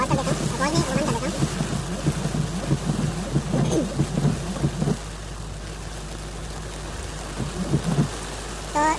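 Heavy rain in Muscat with low visibility makes a dense, steady hiss. Someone talks over it for most of the clip, and the rain carries on alone for a few seconds near the end.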